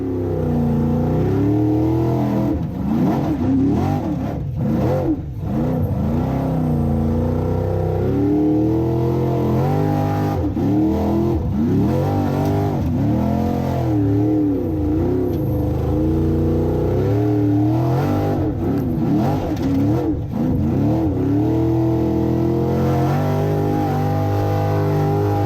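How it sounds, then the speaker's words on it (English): Formula Offroad race vehicle in Akureyri, Iceland: a loud engine revs repeatedly with sharp throttle blips and rising, falling pitch sweeps, continuous and close for the whole stretch, no talk. "So nice to listen to the throttle work. The engine sings to Haukur's input."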